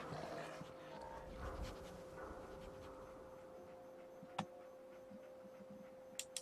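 The dog companion in the video game Fallout 4 pants and whimpers faintly beneath steady in-game ambience, with a few sharp ticks near the end.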